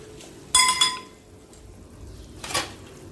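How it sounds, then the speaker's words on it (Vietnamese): Chicken pieces going into a pot of broth in a home kitchen, heard as a sharp burst of clinking metal and crockery, followed after a pause by a short splashy rush, all fairly close with no talking. "ta cho gà vào nồi nước dùng"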